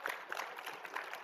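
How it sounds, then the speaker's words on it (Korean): A church congregation claps together in a brief, fairly faint burst of applause, with no speech over it. "우리 하나님께 영광의 박수하면 좋지 않겠어요?"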